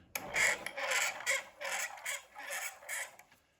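Hardwood doors and hardwood cam mechanism of a reclaimed-wood automaton chicken coop, producing a series of rhythmic wooden creaks and squeaks, close and fairly quiet, repeating about every half second.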